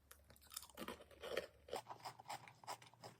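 Crisp, irregular crunching of a reduced-fat cracker snack being chewed close up, a steady run of brittle bites and grinding with no talking.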